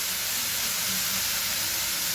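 Drumstick (moringa) flowers cook in hot oil over low heat, making a steady, dense sizzling hiss that stays even throughout the short stretch without any speech.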